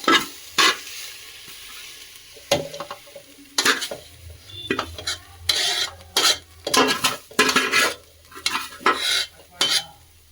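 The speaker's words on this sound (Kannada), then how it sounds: "ನೋಡಿ ಇವಾಗ ಸೊಪ್ಪು ಚೆನ್ನಾಗಿ ಫ್ರೈ ಆಗಿದೆ" Ganike greens fry in a pan for chutney and are stirred repeatedly, giving loud bursts of sizzling and scraping, with spoon-on-pan clatter in irregular strokes over a low sizzle.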